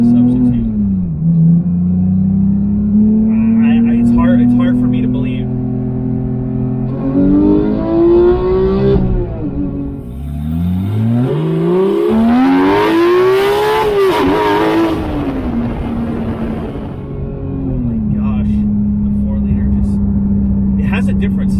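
A 2018 Porsche 911 GT3 (991.2) engine revs hard to 9,000 rpm with a raspy mechanical wail, climbing through gears in a no-lift shift, loud and close inside the car while someone talks over it.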